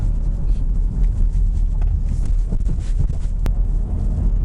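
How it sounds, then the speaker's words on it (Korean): Engine noise heard from inside a moving 2020 Volkswagen Tiguan 2.0 TDI diesel SUV, a steady low rumble with wind and road noise as it accelerates, no voices. "이렇게 가속을 해보면 엔진에서 들어오는 투과음이 약하진 않습니다."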